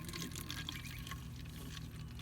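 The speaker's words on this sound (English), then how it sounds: "I'm just going to pour this into my spray bottle here" A steady stream of liquid pours and trickles into a spray bottle, close by and continuous, with no talking.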